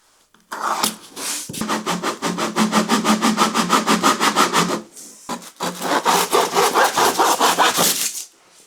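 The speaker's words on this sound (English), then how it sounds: "And with one of Mark's saws" A hand saw rasps through wood in two bursts of quick, even back-and-forth strokes, close and loud, separated by a short pause, with no one talking.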